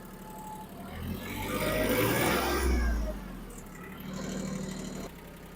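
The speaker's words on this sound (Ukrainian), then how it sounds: "Продемонструємо, як працює грунтофреза." Yanmar F165 mini tractor, 750 kg and built in 1989, runs its engine with a rotary tiller engaged, a close rumbling drone that swells louder in the middle and settles back to a steady run.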